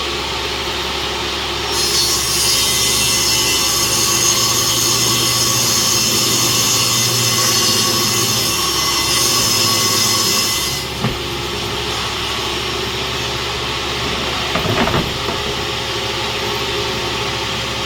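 A table saw in a small workshop spins up and cuts, a loud, steady high-pitched whine and rushing roar lasting several seconds before winding down, with a few knocks afterward.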